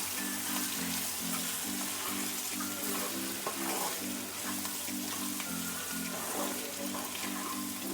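Radish stir-fries in a pan with a steady, close crackling sizzle. A faint rhythmic hum runs underneath.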